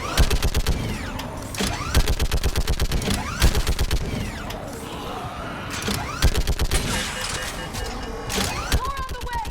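Dense bursts of rapid gunfire rattle through a Mass Effect 3 firefight, with repeated volleys nearly continuous across the scene and voices shouting over the shooting.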